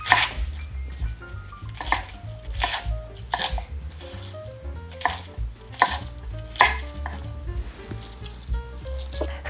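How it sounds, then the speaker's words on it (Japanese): A knife chops soft spring cabbage into large chunks on a board, landing as a series of sharp, crisp cuts at an irregular pace, with music playing underneath. "春キャベツはね、すごく柔らかいので、もうザクザクザクとちょっと大きめに切っていただいても美味しく食べられると思います"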